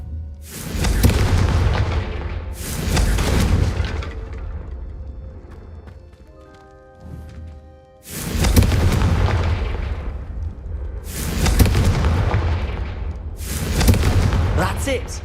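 Confringo fire spell blasts in Hogwarts Legacy, several loud booming explosions in separate bursts, one after another with short gaps, and voices talking between them.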